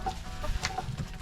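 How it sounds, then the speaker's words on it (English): Chickens on a farm cluck in a few short, close bursts over a quiet outdoor background. "give these chickens more room."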